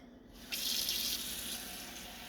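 Tap water runs steadily from a faucet into a cup at a sink, a close, continuous hiss and splash. The flow starts strongly after a brief pause and carries on evenly to the end.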